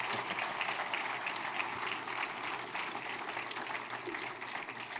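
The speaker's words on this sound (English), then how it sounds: "Give Marcus another big round of applause" An audience gives a steady, dense round of applause for a stock market challenge winner, the clapping sounding fairly distant and even throughout.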